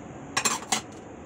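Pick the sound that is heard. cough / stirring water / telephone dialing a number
stirring water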